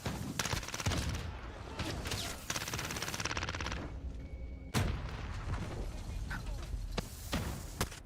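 Gunfire from shotguns in the video game Modern Warfare, heavy bursts of shots and booms across the whole stretch, with sharp blasts standing out near the middle and brief quieter gaps between volleys.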